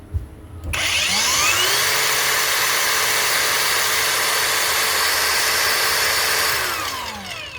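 A Lucid LY 8500 Gen 3 angle grinder switches on and runs at its top speed setting, a loud, steady high whine after a brief spin-up, then begins to wind down near the end, with no talk.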